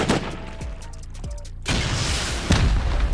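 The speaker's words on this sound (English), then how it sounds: "See if we can send rockets into there." HV rocket explosions in the survival video game Rust: heavy booming blasts, one at the start and a sustained roaring burst from midway with another hit near the end, with a brief voice underneath.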